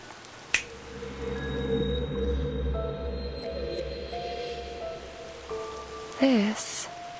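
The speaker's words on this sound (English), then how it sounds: "This is the kind of rain you're afraid of" Steady rain hiss with scattered drops in a Reverse: 1999 game scene, layered over low sustained tones and a sharp click near the start, ending with a brief rising sweep.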